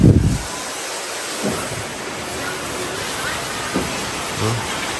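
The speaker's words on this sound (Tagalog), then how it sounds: "Naulan na naman po dito." Steady afternoon rain falls in Davao, a constant broadband hiss with a few brief voices breaking through now and then.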